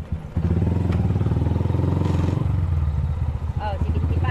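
A motorcycle engine drones steadily and loudly up close with an even, rumbling pulse throughout, and a voice is briefly heard near the end.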